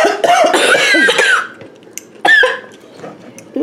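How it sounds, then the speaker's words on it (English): A few loud, harsh coughs in a close burst, then a pause and another cough. "We coughing."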